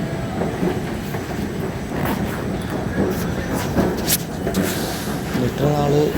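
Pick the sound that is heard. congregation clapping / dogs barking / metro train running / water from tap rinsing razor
metro train running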